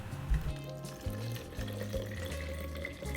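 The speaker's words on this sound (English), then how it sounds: "after that I'm going to add about a half cup of water" About half a cup of water pours into a cup holding powdered drink mix, a close, steady splashing trickle with a few low gurgles, heard alone without speech.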